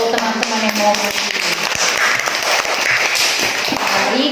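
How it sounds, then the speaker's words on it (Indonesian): Students in an elementary classroom clap their hands in a dense, lively burst that continues throughout, with some children's voices and bumps mixed in. "beri dulu tepuk tangan untuk teman-teman yang mau berdiri"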